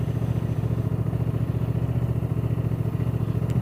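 A Honda Transalp 750 motorcycle engine runs steadily at idle close by, a loud low even throb with a fast regular pulse and no voices.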